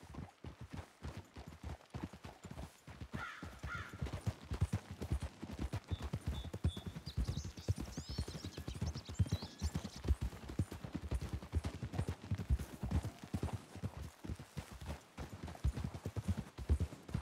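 Horse hooves clip-clopping in Red Dead Redemption 2, a steady rhythmic trot of several horses close by, sustained throughout with faint chirps and ambient game sounds in the background.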